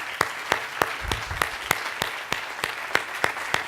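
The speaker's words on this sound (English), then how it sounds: "give them a round of applause" A small audience at a Santa Monica travel and tourism summit claps for the board of directors, a thin scattering of hands under a few sharp, regularly spaced loud claps close by, steady for the whole stretch.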